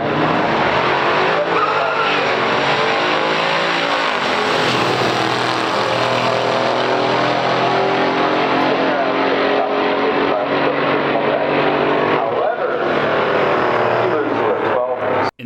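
Drag race between a 1968 Pontiac GTO Ram Air II and a 1970 Oldsmobile F85 W31, loud sustained engine roar at full throttle throughout, with tire noise and a voice talking over it.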